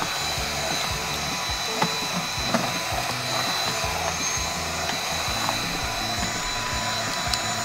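A Dyson vacuum cleaner working through a Siamese cat's favourite hangout spot, giving a loud, continuous motor whine with a low droning hum and small knocks as it moves.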